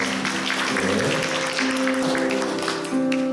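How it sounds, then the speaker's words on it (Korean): A church congregation applauds first-time visitors during a Sunday worship service at a Presbyterian church, the clapping steady and close over sustained tonal music. "박수 좀 환영해 주시죠"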